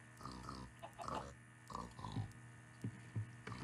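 Pigs in the Minecraft video game give a series of nasal grunting oinks, several calls in quick succession over a low electrical hum, fairly quiet.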